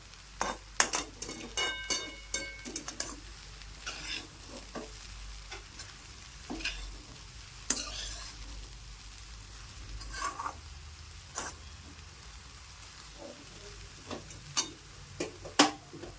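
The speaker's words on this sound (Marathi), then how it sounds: "असं हलवून घेऊ आपण" Leftover chapati churma is stirred and fried in a pan, a soft steady sizzle broken by irregular scraping strokes of the spoon, close and moderately quiet, with no talking.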